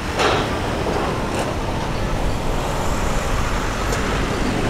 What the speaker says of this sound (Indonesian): Pertama-tama truk-truk dulu yang keluar.